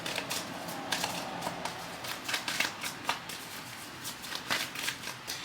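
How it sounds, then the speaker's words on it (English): A deck of tarot cards shuffled continuously close by, with soft, rapid papery riffles and flutters in an irregular rhythm, fairly quiet with no talking. "when I'm looking at the cards and I'm shuffling and I'm meditating"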